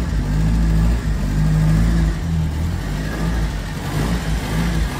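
A 1953 Mercedes-Benz 170 S four-cylinder engine runs loud and close, rising and settling in steady revs with a low, continuous rumble and no talk over it.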